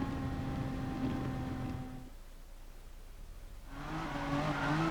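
Race cars in Gran Turismo Sport at the start of an FIA Nations Cup race, engines droning and whining steadily, then easing off briefly before surging back up in pitch as they accelerate.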